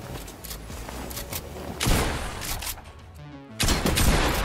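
Gunfire in Fortnite during a hectic fight, heard as repeated bursts of shots with heavy impacts, the loudest volleys near the middle and at the end of a few seconds of dense game noise.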